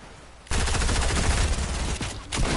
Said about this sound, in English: I feel like someone just sniped at us.